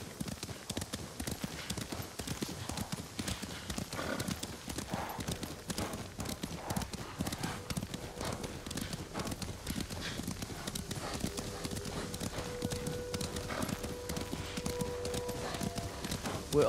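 Horses' hooves clip-clop steadily in Ghost of Tsushima, a busy rhythm of overlapping hoofbeats from several mounts on the move. It runs beneath dialogue and ambient game sound at a moderate level.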